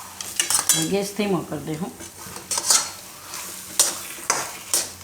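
A spoon stirring and scraping around a pan as milk is mixed into water chestnut flour sheera over the stove, with clinking metal strokes, a faint sizzle, and a person speaking briefly.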